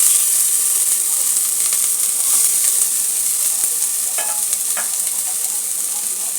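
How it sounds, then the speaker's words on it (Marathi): Onion hitting hot oil in a pressure cooker pan, fried for a spiced village chicken curry, gives a steady close sizzle with scraping stir strokes throughout, loud and alone with no voices. "त्याच्यामध्ये आता आपल्याला कांदा टाकून घ्यायचा आहे."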